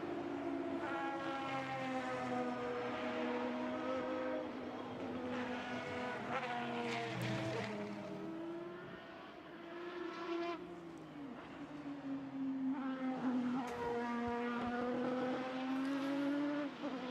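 A Gulf-liveried Aston Martin GT race car passes on the track at Spa during a GT qualifying session, its engine note rising and falling over about seventeen seconds, loud and sustained with shifting pitch as it goes by.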